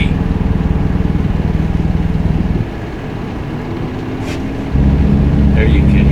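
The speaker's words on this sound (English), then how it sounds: "The Jake brake on this truck sounds funny." Truck in American Truck Simulator running with its Jake brake, a loud, rapid, airy low-pitched pulsing that drops off midway to a quieter hum, then returns strongly near the end.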